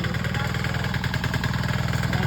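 A hand tractor engine runs steadily on a farm where sweet potatoes are planted, with a loud, close, continuous chugging putter and no pauses.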